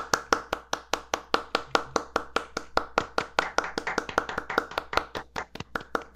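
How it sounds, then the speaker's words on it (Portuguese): A single person claps steadily, about four claps per second for six seconds, crisp and close, with no voices. "Palmas."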